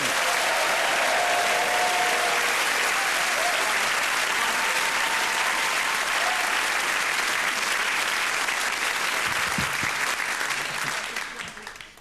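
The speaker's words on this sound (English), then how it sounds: "Please welcome, with your applause, with your hands, Stephen Carlin!" A theatre audience gives comedian Stephen Carlin a long, full round of applause, thick crowd clapping held at a steady level before tapering off at the very end.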